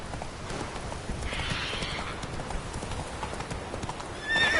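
Roach, a horse in The Witcher 3, gallops with steady clip-clopping hooves and lets out a neigh, with no talk over the sound.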